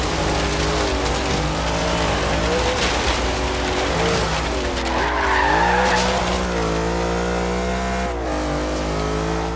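Car sliding and skidding through a drift in the Forza Horizon 3 racing game, a 1990 Chevy Camaro hillclimb build with its stock engine, tires squealing over a steady, loud engine drone that holds for the whole stretch.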